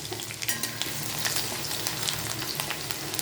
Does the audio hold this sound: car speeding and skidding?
no